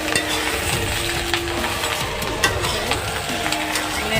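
Bottle gourd curry with peanuts is stirred in a pan, producing a continuous soft sizzle with scraping strokes and light utensil knocks close by.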